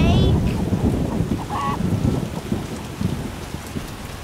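Steady heavy rain in The Witcher: Enhanced Edition, a dense close wash of falling drops with a low rumble beneath it, plus a brief tonal blip midway and a faint voice.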